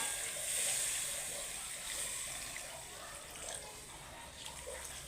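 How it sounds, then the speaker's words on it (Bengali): Hot water pours into a pan of Bengali mixed vegetable curry with a soft, steady hiss and splash that eases slightly as it continues, fairly faint and alone. "এবার আমি এটাকে গরম জল দিয়ে দিচ্ছি।"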